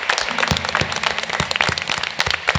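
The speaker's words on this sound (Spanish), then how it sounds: "voy a aprovechar ahora en este momento también para pedir un fuerte aplauso para mis compañeros" An audience at a folkloric music school presentation in San Bartolomé de Tirajana applauds with steady, dense clapping from a crowd, fairly loud throughout the short stretch with no talking.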